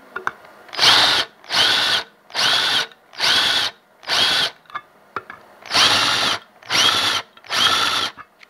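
A power drill runs in nine short bursts with a drill bit, each whirring spin lasting under a second and separated by brief silences, loud and close with no talking.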